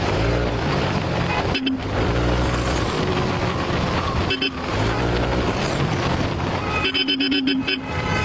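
Vehicle horns honk on a busy road, several toots and longer blasts under continuous traffic and engine noise.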